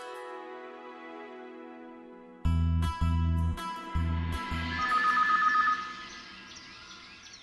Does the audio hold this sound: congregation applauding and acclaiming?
no